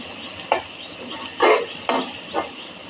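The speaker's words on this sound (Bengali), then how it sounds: "এই পর্যায়ে খুবই ঘন ঘন নেড়ে দিতে হবে" Bitter gourd slices frying in a pan for a crisp karela bhaji and being stirred often: a low sizzle under several distinct scraping stirs of the spatula, spaced irregularly and close by.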